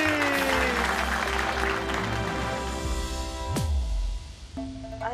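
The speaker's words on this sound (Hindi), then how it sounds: "जोर से बजाओ ताली।" An audience applauds during a magic-trick scene in a Hindi TV comedy episode. Continuous clapping is mixed with loud sustained musical tones and a swooping sound effect, and it thins out near the end.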